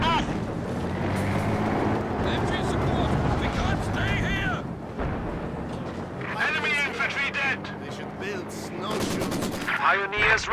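Company of Heroes 2 battle on a snowy Eastern Front mission: bursts of rifle and machine-gun fire keep crackling under shouted soldier voices, dense and continuous throughout.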